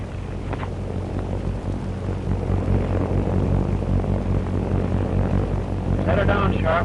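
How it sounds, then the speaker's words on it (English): A propeller airplane drones steadily overhead, loud and continuous, with a voice shouting and talking over it near the end. "Airplane!"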